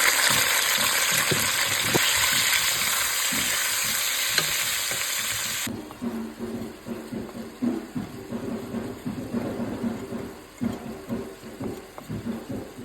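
Chicken meat goes into a pot of hot oil for a chicken sauce, bringing a loud broad sizzle that suddenly drops into quieter, crackling frying with irregular spatters and stirring bumps.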